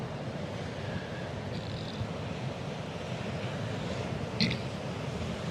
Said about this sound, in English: you might even hear the ocean and the wind as we are in a public place